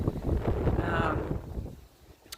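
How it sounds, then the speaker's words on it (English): Low, blustery wind rumble buffets the microphone, strongest in the first half before easing off. "it's so windy and cold here today"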